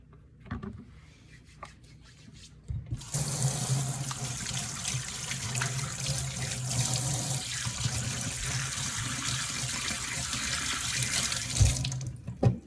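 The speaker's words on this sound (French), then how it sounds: "n'oubliez pas de vous laver les mains" A kitchen tap runs steadily while hands are washed beneath it, the strong, close rush of water starting abruptly after a few quiet knocks and stopping near the end, with rubbing under the stream.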